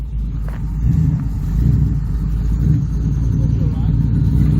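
A car engine rumbles steadily at low pitch as it drives around a shop yard, with a brief rise in revs partway through and a voice or two faintly present underneath.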